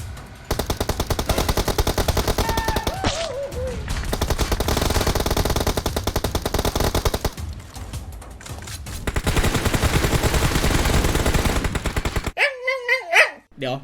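Rapid bursts of automatic gunfire from PUBG Mobile, loud and close, with a few brief pauses and a short electronic game tone near the end.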